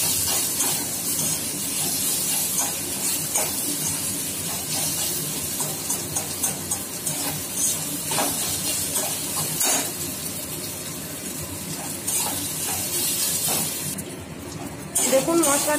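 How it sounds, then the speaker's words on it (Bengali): Garlic and ginger stirred and fried in a pan for a vegetable curry, a steady close sizzling hiss with scraping spoon strokes throughout and a voice talking over it. "একটু নাড়াচাড়া করব রসুন আর আদার যাতে কাঁচা গন্ধটা কেটে যায়।"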